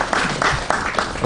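An audience at a health and environment event breaks into a brief burst of clapping, fairly loud and close, lasting only a moment.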